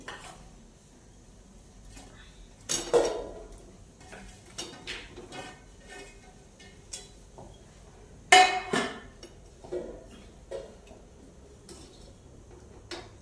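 Paneer cubes are stirred into palak gravy in a pan, with scattered metallic scrapes and clinks of a spoon against the pan amid a quiet background, two louder knocks standing out.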